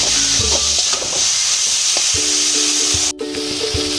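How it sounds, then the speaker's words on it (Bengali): Banana flower paste and prawns being sautéed together in a pan, a loud, continuous sizzle with spatula scrapes and clinks, and one brief drop-out near the end. "এবার পেস্ট করে রাখা মোচাটা আমি দিয়ে দিচ্ছি। একসাথে কষিয়ে নেব।"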